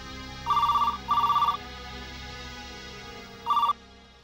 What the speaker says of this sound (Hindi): अरे फोन आया है।